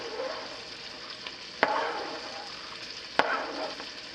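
A jalapeno sizzling in a cast iron pot, a faint steady frying hiss with two sharp metallic clanks along the way.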